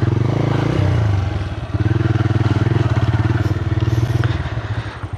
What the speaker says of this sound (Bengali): এই হচ্ছে গ্রামাঞ্চলে বাইক চালানোর মজা